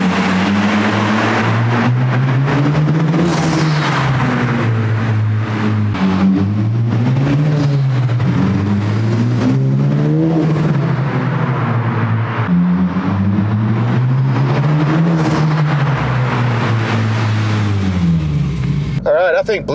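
A 2022 11th-generation Honda Civic Sport with a Function Werk dual exhaust revs up close and loud. The engine note climbs and falls in a steady series of repeated revs for about twenty seconds.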